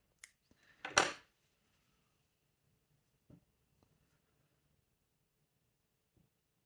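Scissors snip through crochet yarn on a polar bear plushie, one sharp close crisp cut in a quiet room, followed by a few faint soft clicks of handling.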